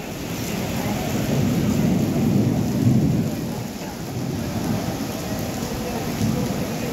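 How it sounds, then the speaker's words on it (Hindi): Heavy rain pours steadily with a deep, continuous rumble of thunder underneath, loud and close, with no voices. "बारिश तो बहुत तेज हो रही है।"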